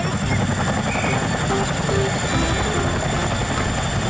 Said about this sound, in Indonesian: Lihat, ini helikopter Chinook.